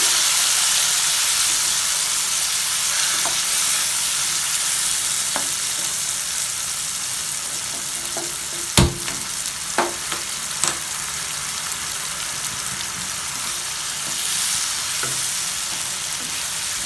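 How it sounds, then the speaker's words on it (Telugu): Baby potatoes fry on high flame with chilli, garlic and lemon juice, giving a loud continuous hiss and sizzle with a few sharp knocks and scrapes from stirring. No one talks. "హై ఫ్లేమ్లో 10 మినిట్స్ మిక్స్ చేసుకోవాలండి."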